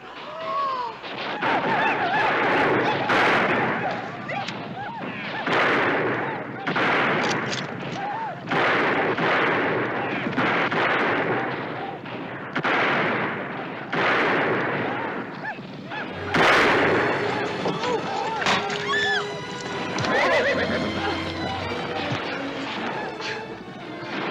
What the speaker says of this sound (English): Use that rifle.